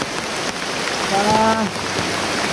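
Heavy rain pouring outdoors, a loud continuous hiss of drops on surfaces, with a brief faint tonal sound partway through.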